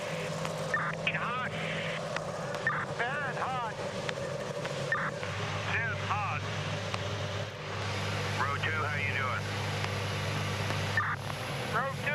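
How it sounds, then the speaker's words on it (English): IndyCar race car engines starting on the grid at Richmond, a layered low drone of idling motors with sharp rising revs and blips from several cars at once, under steady commentary. "Engines have started"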